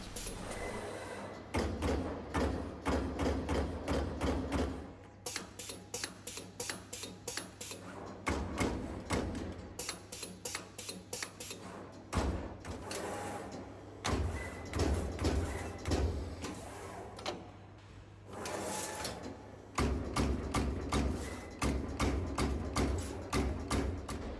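A machine runs with a steady low hum while rapid, rhythmic mechanical thumps and clacks repeat in bursts, pausing briefly between runs.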